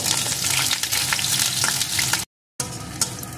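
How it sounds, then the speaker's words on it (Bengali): Potato pieces frying in hot oil with tempering spices, a loud, close, steady sizzle and crackle with a brief gap near the end, with no talk. "এখন আলুটাকেও সুন্দর করে ভেজে নেব।"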